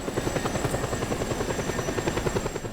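A helicopter in the video game Just Cause 2 chops with steady, rapid rotor thumps over a constant engine whine, loud and close, with no speech.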